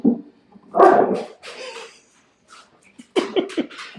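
Dogs, including a German Shepherd, bark close by in short bursts, a few sharp barks and yips with brief pauses between them.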